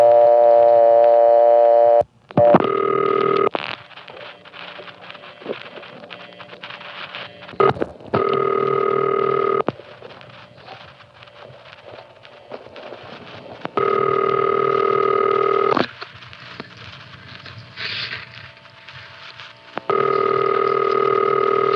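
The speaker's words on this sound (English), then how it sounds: "I'm going to pick up the phone, put in a dime," A 1975 step-by-step coin payphone in Greenfield, Massachusetts: a dime drops and the digit 1 is dialed, with steady dial tone and intercept tones cut by clicks and pulses, loud and close with no voices.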